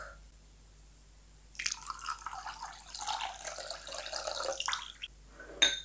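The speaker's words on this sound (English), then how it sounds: "Now add in the egg. Vanilla extract and the milk." Egg, vanilla extract and milk go into butter cookie batter: after a quiet pause, a few seconds of close wet pouring and dripping splashes into a bowl, ending with a brief clink.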